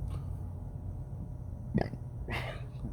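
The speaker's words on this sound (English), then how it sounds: "First time I belched on this whole video." A single short belch after drinking a hazy IPA beer, quiet and close, followed by a faint breathy sound, no talking.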